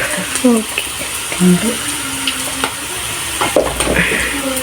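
Coriander powder frying in hot oil in a pan while making kappa biryani, a steady close sizzle with stirring scrapes, partly under a voice talking.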